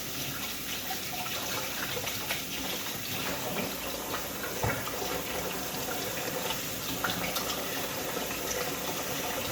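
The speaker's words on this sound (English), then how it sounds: "Wash the hands." Hands are washed under a running kitchen tap, giving a steady, even rush of water that continues throughout with no talking.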